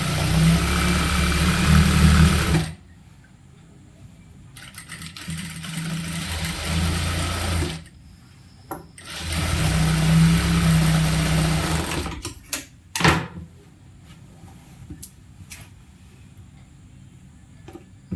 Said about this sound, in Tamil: இன்னொரு தையல் போட்டுக்கலாம்.